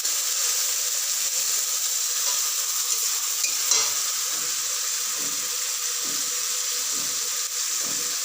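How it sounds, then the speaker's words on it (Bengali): A spice paste of ginger, cumin, coriander, turmeric and chilli mixed in water, frying in oil over chopped tomato, giving a soft, even sizzle with a few faint stirring clinks. "তাই আজকে আমি তেলের মধ্যেই মশলাগুলো পেস্টটা দিয়ে দিচ্ছি।"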